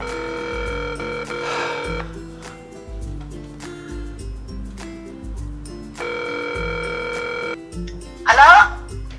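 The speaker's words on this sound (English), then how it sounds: "I must have dialed you by accident." A telephone being dialed and ringing during a prank call, a sequence of tones and ringback pulses repeating through the clip, with a brief burst of noise near the end.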